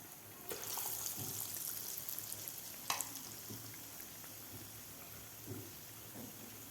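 Batata vada bubbling and sizzling in hot oil, a steady soft frying hiss with occasional sharper pops and crackles, fairly quiet and with no talking.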